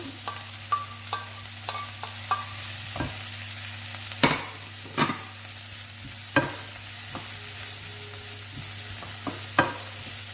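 Red bell peppers frying in a pan for ground-meat tacos: a continuous soft sizzle under repeated scraping stirs and occasional sharper utensil knocks, close and fairly quiet, with no voices.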